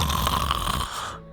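A voice imitates heavy, rasping snoring of someone sleeping deeply after running up stairs, one long loud snore that trails off into quiet.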